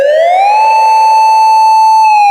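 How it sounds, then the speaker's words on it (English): A loud police siren wails, its pitch climbing and then holding a steady piercing tone for about two seconds before cutting off abruptly. "police sirens echoed through the streets"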